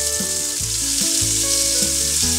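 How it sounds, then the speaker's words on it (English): Steady, loud sizzling of paneer frying in hot ghee on a flat griddle, continuous crackle with occasional stirring, no voices. "So it's sizzling there, and that's the kind of sound."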